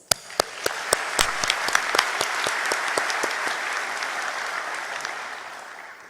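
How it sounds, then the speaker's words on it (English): An audience at a customs IT conference opening ceremony applauds the speakers, starting with distinct loud claps that merge into a full, sustained round of applause before tapering slightly. "I invite all of you to thank all our speakers with your round of applause, please"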